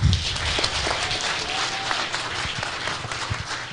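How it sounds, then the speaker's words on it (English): Audience applause at an evening speech event in the USA, a dense, steady patter of many hands clapping close by, holding level for a few seconds. "Let's give them a better clap than that."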